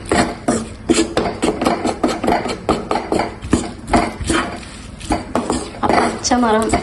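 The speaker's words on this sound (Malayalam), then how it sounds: "തേങ്ങയും ചേർത്ത് നന്നായി മിക്സ് ചെയ്യും" Curry mixed with grated coconut in a pot, with a rapid rhythmic series of metal spoon knocks and scrapes against the pot, close and loud, and a voice briefly audible near the end.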